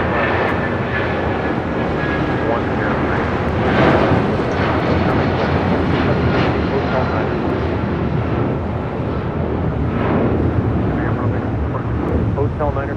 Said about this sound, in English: we just had Aeromexico, the Dreamliner coming in from Mexico City, arriving here on the south side